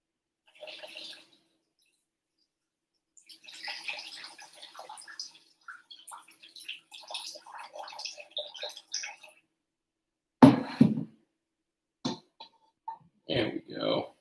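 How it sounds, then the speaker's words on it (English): Water drains out of a pot of cooked macaroni with a soft, splashing pour, broken into several short bursts, and a person talks around it. "I'm gonna drain a little bit more of the water out of here"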